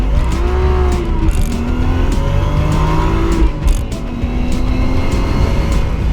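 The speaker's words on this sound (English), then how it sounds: "So the car's actually running great." A sport car engine idles roughly and revs in a series of rising and falling pulls, loud and close, with a rumbling exhaust tone between bursts.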